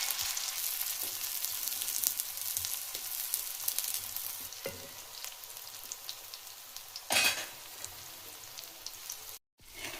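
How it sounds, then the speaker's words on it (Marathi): Mushroom tikki frying in hot oil in a pan, a steady close crackling sizzle running throughout with a few louder spatters and stirring knocks, no voices. "तेल टाकते, टिक्की फ्राय करून घेऊयात."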